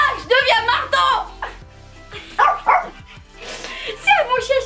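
A pet dog barks and yips in short bursts during a playful intelligence test with kibble, and people talk and laugh excitedly between and over the barks.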